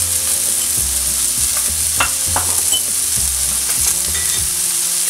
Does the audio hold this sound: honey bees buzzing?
no